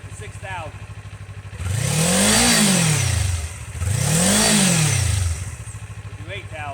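A motorcycle with its stock exhaust idles, then is revved twice toward about 6,000 rpm, each rev swelling and dropping away before settling back to a close, steady idle.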